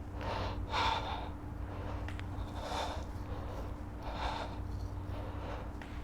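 Heavy rhythmic breathing and gasps from someone straining through a core abs workout, several forceful exhales in a steady cycle over a constant low hum, with no talking.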